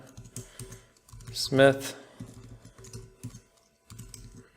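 Computer keyboard typing in short clattering bursts, close and fairly clear, while a person speaks over part of it when entering a name into a database contact form.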